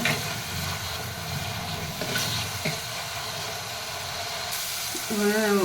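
Onions fry in a pan for a dried anchovy curry with drumstick and brinjal. A soft, continuous sizzle is broken by stirring knocks, and a brief voice rises at the very end.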